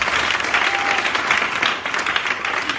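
Congregation at a church service applauding loudly and steadily, dense continuous clapping for about three seconds with a faint murmur of crowd beneath.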